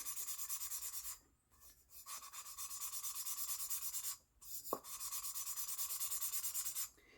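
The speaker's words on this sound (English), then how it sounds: "instead of using a machine, this is called hand lapping" Engine valves are hand lapped onto cylinder head seats with grinding paste, a close rhythmic gritty rubbing, back and forth in quick strokes, broken by a few short pauses.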